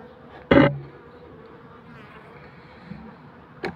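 Honey bees working in a hive fed with pollen substitute and warmed, a low steady buzzing hum throughout, broken by a sharp knock near the start and a faint click at the end.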